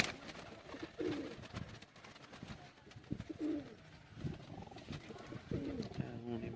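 Teddy pigeons coo nearby in low, rolling repeated calls that come in bursts, with soft background noise and murmuring voices in between.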